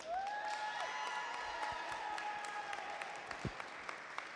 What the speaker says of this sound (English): one final round of applause for our Congresswoman in the 13th Congressional District